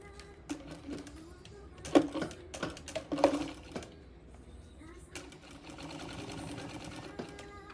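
A sewing machine stitches fabric for a zippered medicine pouch in bursts of rapid mechanical chatter that start and stop, followed by a steadier run, while someone talks at times.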